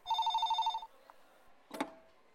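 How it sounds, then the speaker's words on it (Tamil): A telephone bell rings indoors in a rapid, even burst of trilling pulses, followed by a quiet pause and a single clunk. "ஃபோன் அடிக்குது பாருங்க"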